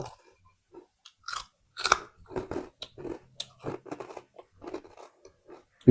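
Khanom jeen rice noodles with fermented fish sauce being eaten up close: irregular wet chewing and crunchy bites with slurping bursts, loud and intimate, with no talking.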